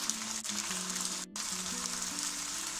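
Continuous frying sizzle of onions and tomatoes sautéing in a pan, a dense hiss that briefly drops out before resuming, with a low hum underneath.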